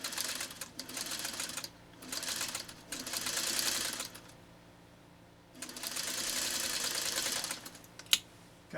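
A 1952 Singer 301 sewing machine stitches fabric at high speed in two long bursts, a fast steady whirring rattle, close and loud, with a quiet pause between runs and a sharp click near the end.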